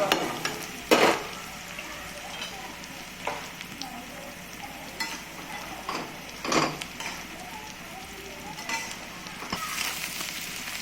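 Onions frying in a pan, a soft continuous sizzle with intermittent stirring scrapes and clatters, fairly quiet and close, with no talking.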